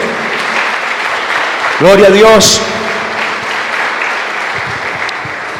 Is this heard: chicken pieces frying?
no